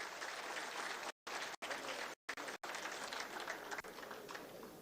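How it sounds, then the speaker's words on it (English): An audience at a national security studies institute applauds an international student, the clapping fairly distant and even, broken by a few sudden dropouts, then thinning slightly toward the end. "Please clap for him, encourage him."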